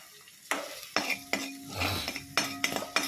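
Mustard seeds and cumin spit and pop in a few spoons of hot oil: sharp, irregular crackles and bursts over a soft sizzle, close up with no talking.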